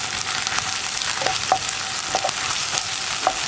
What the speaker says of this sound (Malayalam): 1 teaspoon ginger garlic paste add ചെയ്ത് കൊടുക്കുക ഇനി ഈ പേസ്റ്റിൻ്റെ റോ ടേസ്റ്റ് ഒന്ന് മാറി വരുന്നത് വരെ വീണ്ടും ഒന്ന് ഇളക്കി കൊടുക്കുക